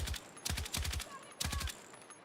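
Automatic rifle fire in Battlefield 6, two close, loud bursts of rapid shots separated by a short pause.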